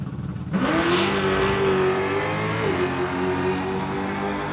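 A 1973 Chevrolet launching down a drag strip, its engine note rising sharply to a loud sustained roar, then easing slightly as it pulls away.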